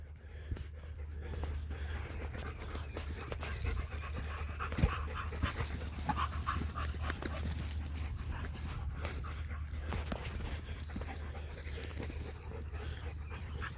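A dog pants rapidly up close, breaths coming in quick rhythmic bursts, with occasional soft whimpers and yips mixed in over a low steady background hum.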